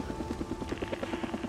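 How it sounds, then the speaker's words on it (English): A helicopter in the video game Days Gone gives off a rapid, rhythmic rotor thumping, steady and moderately loud, with no voices present. "Another helicopter chase?"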